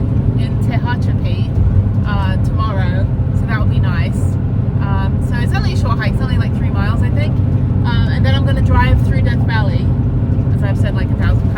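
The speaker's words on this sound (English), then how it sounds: "this is your Saturday night traffic in the desert." A car drives through Saturday night desert traffic with a steady low road and engine rumble inside the cabin. Someone talks throughout over the drone.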